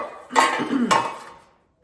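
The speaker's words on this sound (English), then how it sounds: "I just use another loaf pan that fits on quite nicely" Metal loaf pan set down over another loaf pan as a lid, two close clanking contacts about half a second apart with a brief ringing tail, loud and alone.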